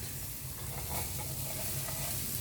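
Long beans frying in a pan give a steady, even sizzle with soft stirring scrapes, close and moderately quiet, with no talking.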